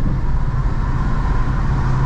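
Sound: 1972 Plymouth Road Runner engine and exhaust while driving

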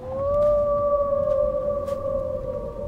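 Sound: fox howling

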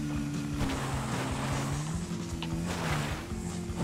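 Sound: motorcycle engine in the video game GTA V

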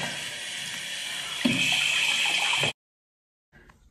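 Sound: tap water running to wet a makeup brush

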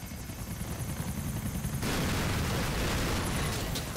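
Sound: helicopter in video game GTA IV

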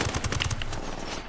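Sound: gunfire in the video game Ghost Recon

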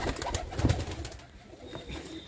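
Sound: pigeon cooing

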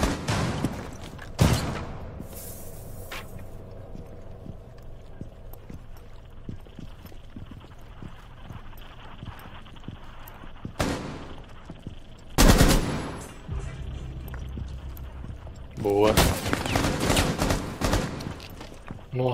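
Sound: gunfire in the video game Rainbow Six Siege

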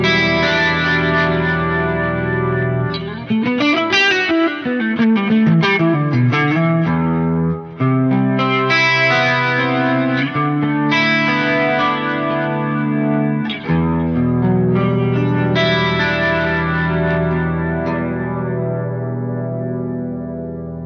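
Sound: chorus effect on guitar amp sim, Neural DSP Soldano SLO 100

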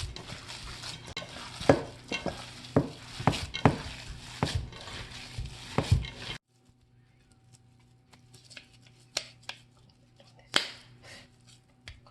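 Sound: kneading hamburger meat mixture

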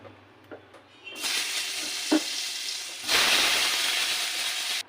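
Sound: eggplant pieces frying in a pan

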